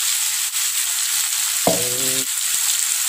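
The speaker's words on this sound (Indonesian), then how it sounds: "Ini kita tumis hingga mengeluarkan aroma wangi atau bahan bumbunya matang ya." Blended yellow spice paste sizzles and spits in hot oil in a pan for oseng tahu kacang panjang, a steady loud frying hiss with a brief tonal scrape of stirring partway through.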